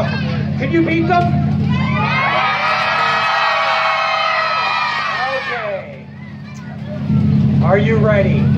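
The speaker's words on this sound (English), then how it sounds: "Can you out cheer them on this side?" A demolition derby crowd cheering loudly in a sustained roar, with an announcer's voice talking over the grandstand before and after.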